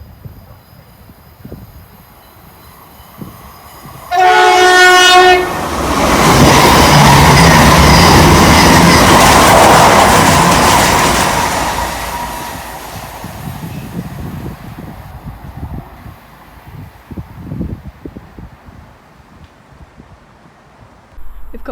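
A high-speed IET train on the Great Western Main Line at Tilehurst sounds a loud two-tone horn, then roars past close by in a sustained rush of wheels and air that builds, holds for several seconds and fades away.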